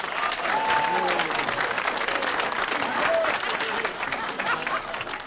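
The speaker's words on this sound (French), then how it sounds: "Je voudrais un tonnerre d'applaudissements à Patrick." Audience applause in a thundering ovation for Patrick at a speech in a comedy film, dense and steady throughout with scattered voices and a couple of brief whistles over the clapping.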